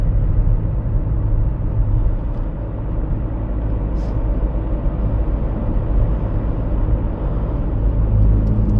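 A VW T4 2.5 TDi van with 151 hp drives along a road, a steady low engine drone and road rumble from inside the cabin, with a faint brief squeak partway through.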